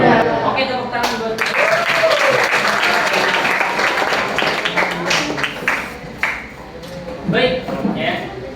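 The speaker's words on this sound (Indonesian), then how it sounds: "Oke, tepuk tangan buat." Classroom applause from students during an Indonesian lesson on Hindu-Buddhist heritage, a dense sustained clapping that fills most of the clip with voices mixed in.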